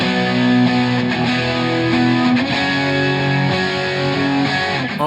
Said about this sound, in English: Here's the sound of all four guitars and how they mix together for the chorus.